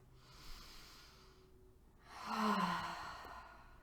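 A slow, audible exhale through the nose during a standing yoga pose with a bent front knee, a soft breathy rush rising and fading in a quiet room.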